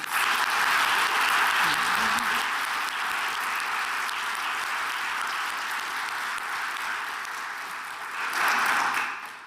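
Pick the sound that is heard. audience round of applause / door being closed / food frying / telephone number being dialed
audience round of applause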